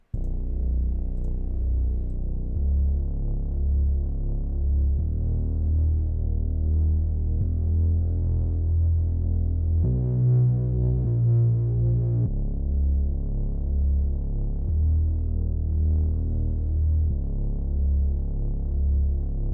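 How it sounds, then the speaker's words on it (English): A deep synth bass line from Analog Lab plays steady, sustained low notes following the root notes, shifting pitch every couple of seconds, loud and continuous with no other sounds, in a club R&B beat. "Now we get a synth bass"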